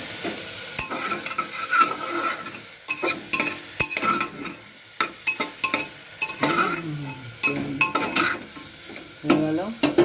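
Dried red chillies fry in a small pressure cooker while being stirred, a close, busy crackling sizzle broken by repeated metallic scrapes and clinks of the spoon.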